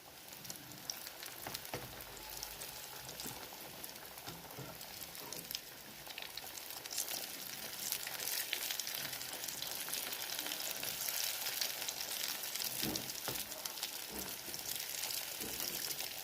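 Food fries in hot oil on a gas stove turned to low-to-medium heat, with a steady, close crackling sizzle that holds throughout and grows slightly busier partway through.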